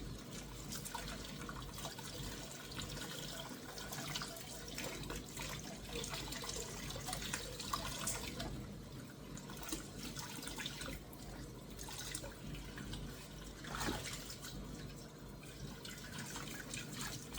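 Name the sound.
water running while rinsing out an item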